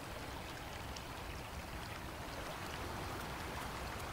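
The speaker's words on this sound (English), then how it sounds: "A river blocks their path." River water flowing in a snowy owl habitat, a steady broadband rushing and trickling of the stream, continuous and moderately faint, with no voices.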